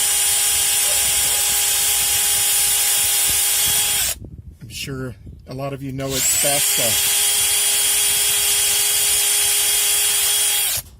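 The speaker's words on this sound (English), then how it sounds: "I want to pilot drill some holes here." A power drill whines steadily while pilot-drilling holes in aluminum, running continuously, pausing briefly while someone speaks, then resuming at full speed close by.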